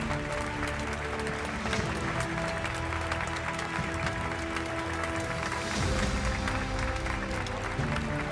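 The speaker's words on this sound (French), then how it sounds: "Applaudissez-le bien fort." Audience applause at a film awards ceremony after a best editing prize is announced: dense, sustained clapping from a large crowd, holding at an even, loud level for several seconds, with no talk over it.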